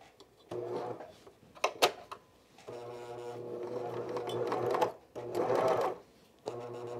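Cover stitch sewing machine running in several bursts of steady motor whir with harmonic hum, pausing briefly between runs, close and moderately loud with no talk.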